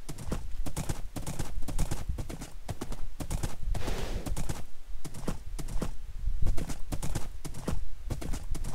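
Rapid, regular clip-clop of horse hooves in Minecraft trots along continuously, close and clear, with faint voices in the background.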